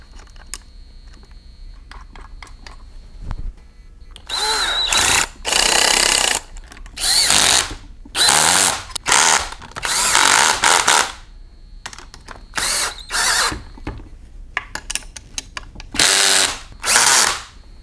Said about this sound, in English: I'm torquing these bolts down to 25 foot-pounds.